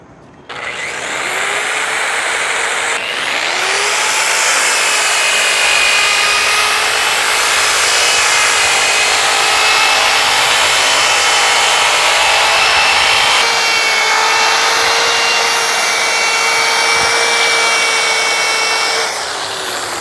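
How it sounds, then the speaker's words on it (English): A rotary sanding pad on a power tool polishes stainless steel with a continuous high-pitched whirring grind that holds steady and loud for about twenty seconds, its tone shifting slightly as pressure on the metal changes. "we're using a rotary sanding pad"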